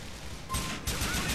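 Brief burst of gunfire in Grand Theft Auto The Lost and Damned, aimed at a motorcycle's back tire: two close, harsh blasts in quick succession over faint background game noise.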